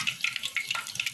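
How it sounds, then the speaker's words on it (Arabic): Garlic fries in a pot with a soft, crackling sizzle of quick, irregular pops, close and fairly quiet, with no talking. "احنا بنحمر التومه اهو"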